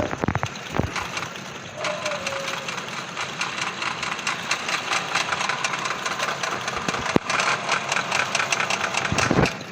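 A motorbike engine runs steadily nearby, a loud, continuous throbbing rumble that lasts throughout without letting up.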